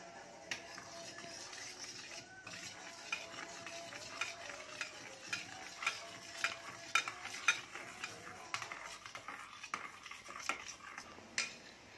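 Eggs and salt are beaten by hand for an omelette, with a steady run of light, close clinks and taps of a utensil against the bowl, no talking.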